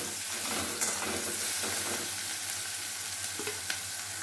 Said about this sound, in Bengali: আমি এখন পেঁয়াজগুলো দিয়ে নিলাম পেঁয়াজগুলো একটু ভাজা ভাজা হয়ে গেলে